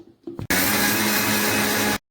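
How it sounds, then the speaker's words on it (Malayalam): An electric mixer grinder whirs loudly as it dry-grinds spices with no water added, for a Kerala-style prawn theeyal; a short loud burst of steady motor roar starts abruptly and cuts off after about a second and a half. "നമുക്കിത് വെള്ളമൊന്നും ചേർക്കാതെ ഇതൊന്ന് പൊടിച്ചെടുത്തിട്ട് വരാം."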